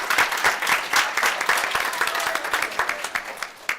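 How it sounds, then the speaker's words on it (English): Audience applause for teachers and staff at a school board meeting, loud clapping with distinct individual claps that thins out toward the end. "a round of applause to them"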